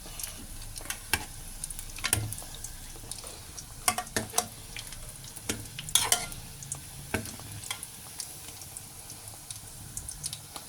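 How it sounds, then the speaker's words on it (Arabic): Dough fries in hot oil with a faint steady sizzle, punctuated by sharp clicks and scraping knocks from a utensil at irregular intervals, close by, with no voices. "خدها بقى على الزيت نقليها"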